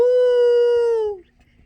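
A narrator's voice imitates a ghost's howl in one long, loud, steady tone that holds for over a second and then drops off abruptly, followed by near silence.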